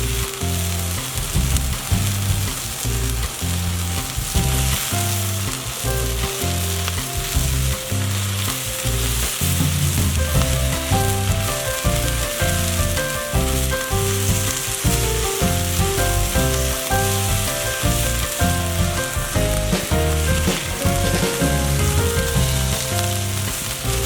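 Bacon frying on a freshly seasoned Blackstone griddle at around 375 degrees, a loud steady sizzle with crackling, heard together with a rhythmic pulsing background pattern and no speech.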